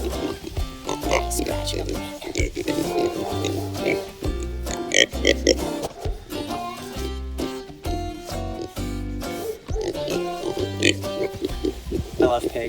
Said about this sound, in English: So we've got two Kuni piglets.